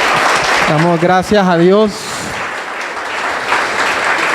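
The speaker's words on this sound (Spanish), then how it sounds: "Un aplauso para ellos" A church congregation applauds during a gathering, a continuous bed of clapping that someone briefly speaks over early on before it continues on its own.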